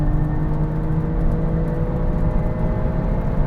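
Alfa Romeo Stelvio QV accelerating hard on a quarter-mile run, heard from inside as a steady deep engine rumble and tire whir that holds throughout.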